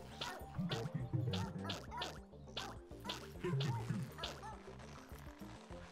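A dog barks in a video game, with a run of repeated yapping barks spread through a busy, cluttered mix of game sounds and a voice talking.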